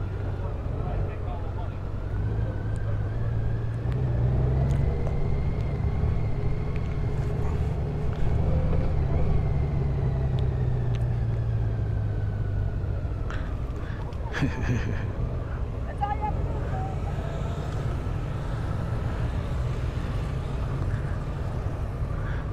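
Honda Goldwing DCT motorcycle ridden in sport mode on a test ride, a steady close engine drone with rising and falling pitch as it accelerates, mixed with wind buffeting across the microphone throughout.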